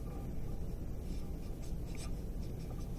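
A pen or pencil scratches steadily across paper while physics notes are worked out, a close, continuous soft scribbling with no voices.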